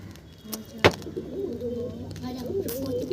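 Pigeons in a loft coo softly and steadily close by, with a sharp tap or flutter near the start and a person's voice talking over the birds.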